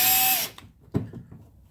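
A power tool whirs briefly to tighten a clamp that compresses a rubber fitting around a wire on an RC survey catamaran, a loud close burst that stops and is followed by a few small clicks and taps.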